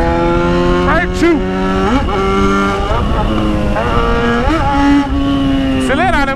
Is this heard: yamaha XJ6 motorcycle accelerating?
yes